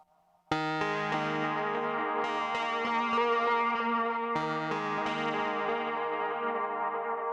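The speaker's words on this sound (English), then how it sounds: "Cassette adds a little bit of tape compression and I think a little bit of wow and flutter, so it just sounds good." A sustained instrument tone runs through a Hologram Electronics Chroma Console set to its cassette effect, which adds tape compression, gentle wow and flutter, and distortion. The held notes shift in pitch partway through, with no talking.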